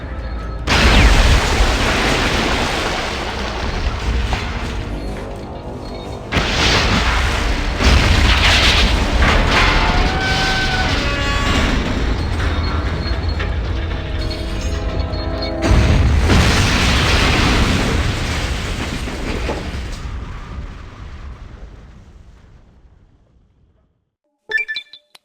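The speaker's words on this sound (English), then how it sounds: "And big explosions." Big explosions in the 1997 video game Fallout, a sustained roaring series of booms and blasts lasting about twenty seconds, loud and dense, with a fresh surge midway and a fade to silence near the end.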